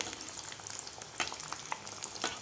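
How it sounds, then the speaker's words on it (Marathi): Mini flower-shaped potato samosas deep-frying in oil over medium heat, giving a soft, continuous bubbling sizzle with small crackling pops, fairly quiet and with no voices. "मीडियम हीटवर आपल्याला हे तळून घ्यायचे आहेत."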